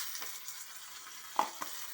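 Gongura leaves dropped into a hot tempering of oil and spices with the stove switched off, giving a soft steady sizzle broken by a few sharp crackles and stirring clicks, close and fairly faint.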